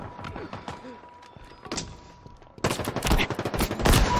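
Game gunfire from a Halo capture-the-flag match, with a burst of loud, rapid overlapping shots in the second half after scattered quieter impacts and game sounds.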